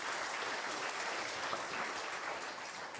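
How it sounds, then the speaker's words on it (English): Sustained applause from the audience at a county mayor's State of the County address, a dense even wash of many hands clapping at steady loudness from start to end. "So a big round of applause for her too."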